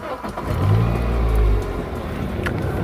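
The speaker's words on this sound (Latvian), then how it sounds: "mums ir jāiedarbina motors" A used car's engine cranks and catches, then settles into a steady running idle, close and fairly loud, with a deep low rumble swelling before it eases into the idle and no voices.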